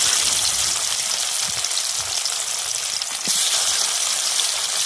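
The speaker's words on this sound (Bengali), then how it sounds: "তেল দিয়ে এলাম, তেলে ভেজে নেব।" Small rui fish fry in hot oil with a loud, steady, close crackling sizzle that stays dense throughout, with faint bumps of movement in the pan underneath.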